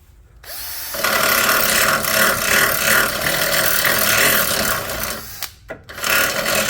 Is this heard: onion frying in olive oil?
no